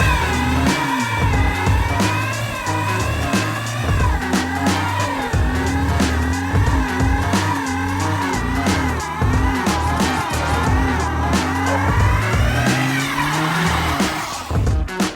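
A Genesis car doing a burnout in a home driveway, engine roaring loud and close with continuous wavering tire squeal and repeated rev surges throughout.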